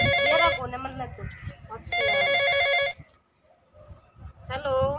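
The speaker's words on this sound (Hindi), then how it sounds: "ले तेरे गांव की फोन आ रहा है।" A telephone rings in a Haryanvi village drama, its electronic ringer sounding in two loud bursts of repeated trilling tones, with people talking over and between the rings.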